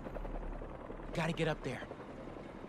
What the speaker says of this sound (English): Like a chopper! A helicopter's blades.